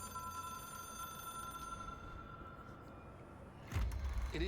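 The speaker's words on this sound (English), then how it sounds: "It is a phone." A telephone rings inside the video game Control, a steady electronic ringing tone over a dark ambient hum, before a louder low-pitched thud and rumble take over near the end.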